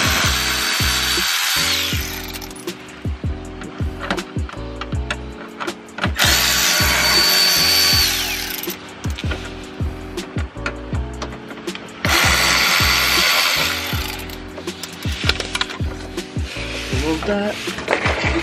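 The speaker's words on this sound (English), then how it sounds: "After you remove all the screws, there's gonna be like 3 more screws" A power drill backs screws out of a Ford Focus ST motor mount, with three long loud whirring runs alternating with shorter bursts, clicks and metallic handling noise throughout.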